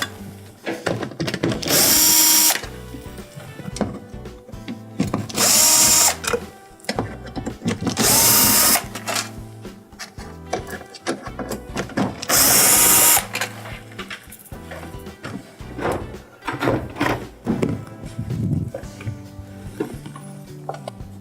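A power driver whirs in four separate loud bursts of a few seconds each, backing T15 Torx screws out of a Whirlpool dishwasher's front panel, with lighter handling clatter and small knocks between runs.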